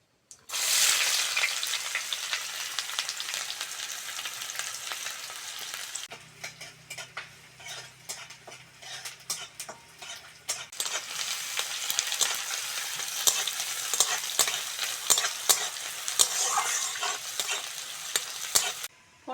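Chopped onion fries with rice in a pan, a steady crackling sizzle broken by stirring and scraping, which drops to a quieter hiss midway before the loud frying returns.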